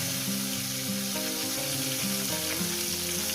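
Pointed gourd fries in a pan with onions just added, giving a loud, continuous oil sizzle with no talking.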